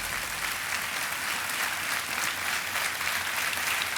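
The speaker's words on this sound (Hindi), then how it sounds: "तालियां बजते रहे इनके लिए।" A studio audience on a quiz show applauds in a continuous, even roar of many hands, sustained at a moderate level for the full few seconds with no break.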